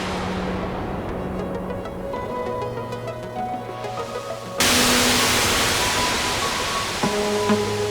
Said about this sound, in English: I was looking for just some white noise